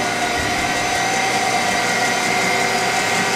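A Citizen F12 CNC Swiss lathe with a Fanuc 3T control runs through its program, giving a steady machine hum with a constant mid-pitched whine, close and unbroken with no talking.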